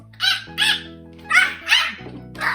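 A voice imitates a flamingo call with four honking, nasal squawks in quick pairs, over a low steady hum.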